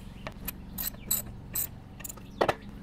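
A carburetor float bowl bolt is snugged down on a Coleman Powermate 5kW generator with a Subaru/Robin engine, a close series of quick ratcheting clicks in short bursts, fairly quiet, with no voices.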